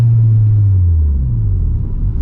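A deep, steady Honda sports car engine rumble holds a low drone throughout, dipping slightly then rising again, loud and close with no voices.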